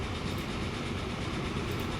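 A train running in the video game Transport Fever gives a dense, steady rumble with faint rolling rail noise throughout, fairly quiet and with no talk.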